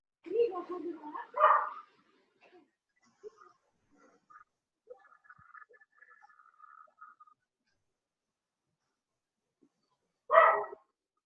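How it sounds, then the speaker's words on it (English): A dog barks in a couple of short bursts during an online meeting, first near the start and again near the end, with faint scattered background noise in between and no talk over the barks. "Someone's got a dog."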